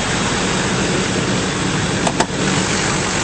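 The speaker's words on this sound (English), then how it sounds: "under the hood, a very clean engine bay, running nice and smoothly" A 2005 Chevrolet Silverado 3500 crew cab dually with a 6.6L diesel idles steadily and smoothly, a constant loud drone with no speech.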